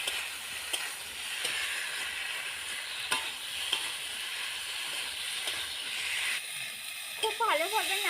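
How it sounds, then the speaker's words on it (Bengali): Chickpeas and potatoes for ghugni frying in a hot pan: a steady close sizzle and hiss, with a spoon scraping and stirring at irregular beats and a voice talking briefly near the end. "বুট এবং আলু খুব ভালোভাবে নাড়াচাড়া করে আমি ভেজে নেব।"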